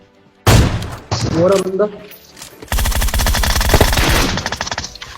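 Rapid gunfire bursts from the PUBG video game, with a short spoken remark and other sounds before a sustained, loud volley of automatic-weapon shots through the second half.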